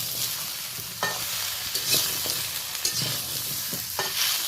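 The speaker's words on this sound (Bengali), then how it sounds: "দিয়ে হালকা হাতে সবজিগুলোর সাথে মিশিয়ে নিলাম" Mixed vegetables frying in a pan for a Bengali morich jhol curry with a pinch of turmeric, a steady close sizzle broken by repeated scraping stirs of a spatula at an irregular rhythm.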